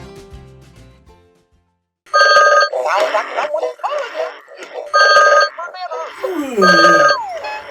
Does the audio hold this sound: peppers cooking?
no